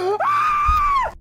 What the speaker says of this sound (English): The scream is hilarious.